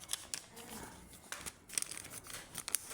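A paper receipt is handled up close, giving crisp, irregular crinkles in short bursts while a voice talks nearby.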